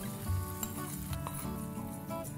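Red chillies in hot tempering oil are poured into cooked ambadi (roselle leaf) bhaji, giving a loud, steady crackling sizzle with faint utensil clinks, no voices.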